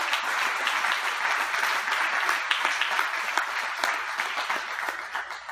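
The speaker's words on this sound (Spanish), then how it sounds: "Quiero que des un aplauso fuerte a Jesucristo." A church congregation breaks into loud, sustained applause, dense clapping holding steady for several seconds before easing slightly toward the end.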